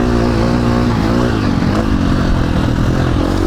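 KTM dirt bike, a two-stroke 300 or a 350, riding through sand, its engine droning loud and steady at close range with a buzzing exhaust tone throughout.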